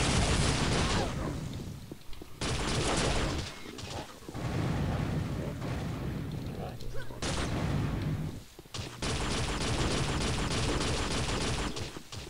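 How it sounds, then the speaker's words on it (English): Bio rifle in the Unreal video game, lobbed in indirect fire on the Outpost 3J / Velora Pass level: loud, dense, sustained bursts of weapon fire close up, broken by a few short gaps, with game noise layered throughout. "Let's use the indirect fire of the bio rifle."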